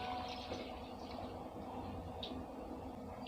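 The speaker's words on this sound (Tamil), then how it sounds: "இப்போ முருங்கீரை முங்குற அளவுக்கு தண்ணி ஆட் பண்ணிக்கோங்க." Water pours steadily into a pot of drumstick leaves in a home kitchen, a soft continuous splashing and trickling heard close and fairly quiet throughout.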